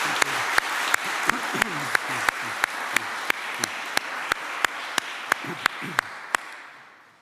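Audience applause for student musicians at a distinguished alumni honors ceremony, a steady dense wash of clapping with some sharp individual claps standing out, some faint voices underneath, and the applause fading at the end.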